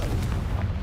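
A Confringo spell blast in the Hogwarts Legacy game, a short deep booming burst with a rumbling low end, heard alone.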